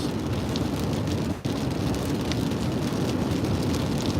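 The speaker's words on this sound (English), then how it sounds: "Pretty good rain coming down in Phoenix here." Steady rain pours down in Phoenix, Arizona, a dense continuous hiss of drops striking surfaces, close and constant throughout with only a momentary dip partway through.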